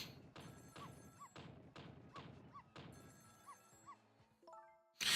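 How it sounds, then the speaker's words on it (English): A neighbour kicks a wall in the video game Ghost Trick, giving about six dull, evenly spaced thuds with light rattling, close and fairly loud, and then a brief burst at the end. "The lady next door kicks the wall."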